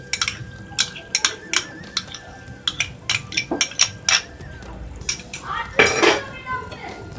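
A utensil stirring cream into chicken gravy in a metal pan, giving sharp clinks and scrapes in quick irregular bursts, close and fairly loud, with a brief sizzle near the end.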